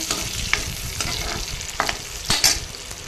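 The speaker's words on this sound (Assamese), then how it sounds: "ড্ৰাই ফ্ৰুটখিনি ধুনীয়াকৈ ভাজি লৈছোঁ এতিয়া" Dry fruits fry in hot oil with a close, steady sizzle, punctuated by crisp spoon-stirring scrapes and clicks at irregular intervals.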